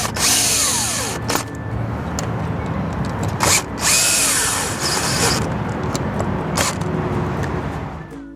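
Power drill driving screws into brackets for a Fiamma F65s awning on a Rialta, heard as several loud, close bursts of whirring drilling separated by brief pauses, with no talk.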